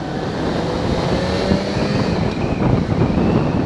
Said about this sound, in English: This inline 4 is so smooth.